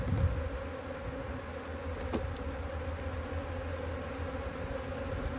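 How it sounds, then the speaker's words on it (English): A honey bee swarm buzzes in a steady, dense drone that holds a level high-pitched hum throughout, close and continuous with no talking. "Got a nice high-pitched level of buzz."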